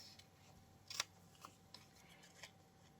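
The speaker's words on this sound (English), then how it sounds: "So I'm going to get her cut out." Scissors cutting a picture of a woman out of Daphne's Diary magazine paper, a few small sharp snips and crisp clicks, quiet and close with no talking.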